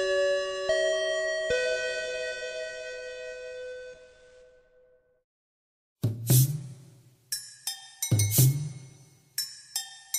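A bell signals the close of an after-school anime club meeting: a sustained, ringing chime tone fading over several seconds, followed by a burst of sharp, clattering clinks and knocks.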